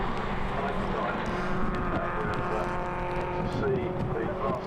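BMW Compact Cup race cars stream through the Craner Curves at Donington Park, a dense continuous roar of several engines at close to middle distance, with rising and falling revs as cars pass, under a commentator's steady talk.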